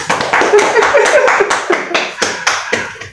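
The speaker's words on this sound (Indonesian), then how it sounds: "Ya tepuk tangan lagi dong." A small group claps hands in loud, uneven bursts of applause that rise and fall over a few seconds, close by.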